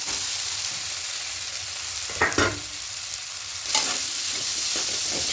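Vegetables tossed into a pan of frying ginger-chili paste for a vegetarian moong dal: a continuous soft sizzle with two brief scraping stirs, close but moderate in level, no talk.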